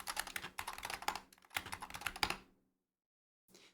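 Rapid computer keyboard typing of terminal commands, dense clattering bursts of keystrokes with a short pause between them, close and clear, then silence broken by one last brief tap, with no voices.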